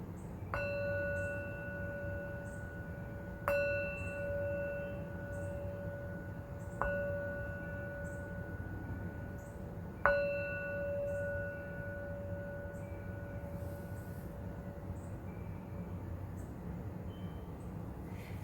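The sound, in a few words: wind chimes and outdoor noises through open windows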